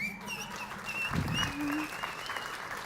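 A scattered burst of clapping from a small crowd, with a voice speaking over it and background noise throughout.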